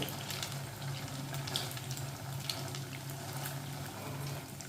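Potato and bread rolls (chops) deep-frying in hot oil make a steady, close, even crackling hiss that holds without a break, with no voices.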